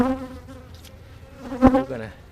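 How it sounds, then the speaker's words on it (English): Honey bees in a heavy, crowded hive make a steady, close buzzing drone that swells briefly near the end, with no talking. "that thing is chocker block heavy, full of bees"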